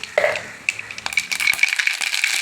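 Mustard seeds pop and crackle in hot oil for a Kerala-style ivy gourd upperi, a rapid scatter of sharp little snaps over a sizzling hiss.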